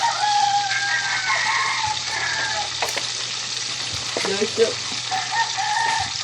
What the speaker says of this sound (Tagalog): manluluto na at nagpiprito na ako ng isda